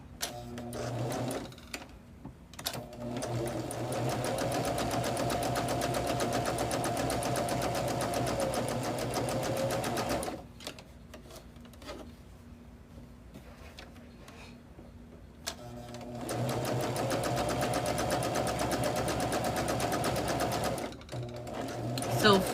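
A sewing machine stitching a quarter-inch seam on a quilt block runs in two long rapid mechanical bursts separated by a quieter pause, close up, while someone talks over and between the runs.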